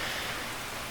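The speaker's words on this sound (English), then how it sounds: "it's raining as well" Steady rain hisses in the Derail Valley train game, a dense even wash of falling drops with no pauses and no voices.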